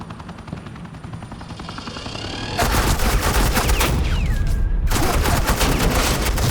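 Continuous suppressing gunfire in the Batman Telltale video game, a dense rattle of rapid automatic shots that grows louder partway through and keeps going to the end, with a brief rising whine over the barrage.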